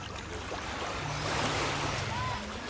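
Sea waves wash continuously along the shore at Virgie Beach Resort, a broad steady roar mixed with wind buffeting the microphone.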